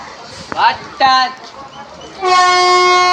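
Passenger train at a small railway station, with brief clanks and rumbling before a loud, sustained horn blast near the end; close by, under a speaking voice.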